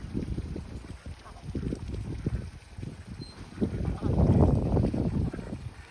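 Excited ducks gather at a backyard duck pond being refilled in a Texas garden, quacking in uneven close bursts that swell louder near the end, with a little talk mixed in.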